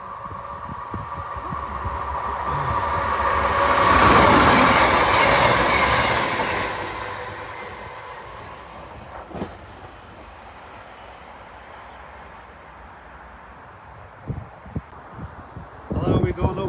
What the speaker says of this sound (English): We've got our cross-country Voyager.